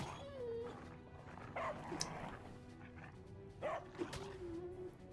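A dog enemy attacks in the fantasy role-playing game Divinity: Original Sin, giving a few yipping bow-wow barks and whimpers in short bursts over busy game sound effects, at moderate volume with no talk.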